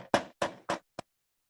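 Knuckles rap a film slate three times in a quick, even rhythm, then give a fourth lighter tap. The hits are close and crisp, with silence afterward.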